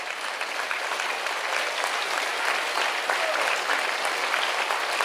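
Audience applause fills a large spiritual gathering, a Karauli Shankar Mahadev mahasammelan: dense, steady clapping from a big crowd, loud and sustained throughout without a break.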